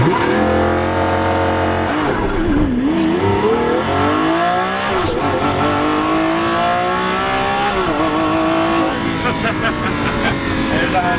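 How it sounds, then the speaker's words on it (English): A Lamborghini launching hard in thrust mode, its engine climbing through several rising gear pulls with brief drops between shifts, loud and close throughout, with voices talking over it. "That is thrust mode right there"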